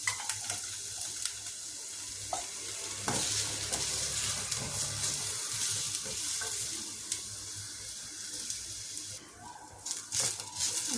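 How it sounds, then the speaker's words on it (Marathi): Chopped onion roasts in a spoonful of oil in a pan for a spicy Maharashtrian misal, giving a steady close sizzle broken by occasional scraping stirs, with no talking. "थोडा लाल होईस्तोपर्यंत आपण कांदा भाजून घेऊयात चांगला"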